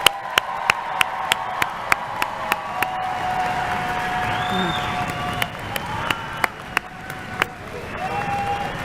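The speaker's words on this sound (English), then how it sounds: "Let's give these graduates one more round of applause." A crowd applauds graduates at a fall university commencement ceremony, a steady wash of clapping with sharp, regular clicks cutting through, fading slightly toward the end.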